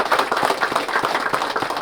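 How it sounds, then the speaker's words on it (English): A room full of people, likely a football team, claps in dense, steady applause for nearly two seconds, the overlapping hand claps forming a continuous crackle with no talking. "Give yourself a round of applause."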